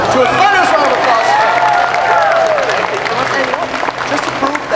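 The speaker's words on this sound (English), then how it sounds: "To a thunderous round of applause." Loud, dense applause from a theater audience after a magic trick, mixed with cheering and crowd noise, holding steady throughout before easing slightly toward the end.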